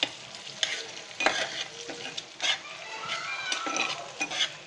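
An egg frying in a pan while being stirred, with steady sizzling under repeated scraping and clinking strokes of a utensil, close and fairly loud, no talk.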